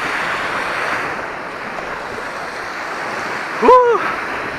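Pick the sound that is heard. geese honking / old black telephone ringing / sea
sea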